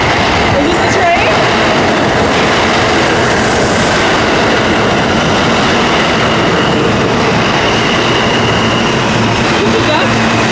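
A train rolls along its rails with a loud, continuous rumble and clatter, and a few faint voices can be heard beneath the noise.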